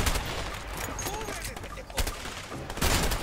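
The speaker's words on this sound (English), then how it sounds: "Machine gun up top!" Gunfire from the video game A Way Out: dense, continuous bursts of shots with a few louder cracks, loud and busy under a game soundscape with voice-like sounds mixed in.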